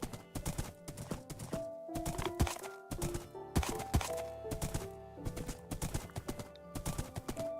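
Hooves of a horse clip-clop in a Minecraft-style video game, a rapid series of sharp hollow knocks in uneven bursts, fairly close and moderately quiet, with no talk over them.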